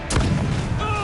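A swing cannon fires in the Assassin's Creed IV Black Flag naval game, one loud booming blast followed by a rumbling tail and faint ringing tones.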